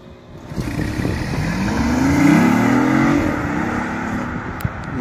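BMW i8 hybrid sports car engine revving, a steady, fairly loud rumble that rises and falls in pitch as it is run up, heard outdoors with no talking.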